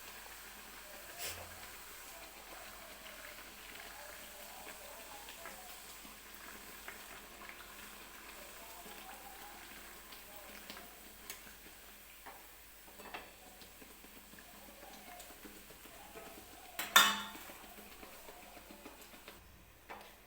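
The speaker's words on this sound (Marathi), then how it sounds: "छान असा हलकासा गोल्डन रंग येईपर्यंत मी ह्या पुऱ्या तळून घेते" Semolina puris deep-frying in hot oil give a soft, steady hiss and bubbling sizzle at low level, with one sharper clatter near the end and no talking.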